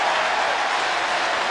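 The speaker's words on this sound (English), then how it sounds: "And they're applauding the newest Red Sox player, Victor Martinez." Large crowd of baseball fans applauding at Camden Yards during a Red Sox game in Baltimore, a steady broadband wash of clapping and cheering that holds evenly throughout.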